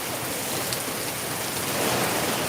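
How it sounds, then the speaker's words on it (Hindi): Heavy rain pours down in Darbhanga, a loud, continuous hiss of water drumming on surfaces close by, steady throughout with no distinct thunder clap. "यहाँ बहुत तेज बारिश हो रही है, देखिए पूरा।"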